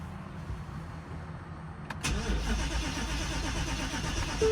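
A car engine cranks briefly, catches and fires into a rough, steady run in a snowy outdoor setting, close and fairly loud.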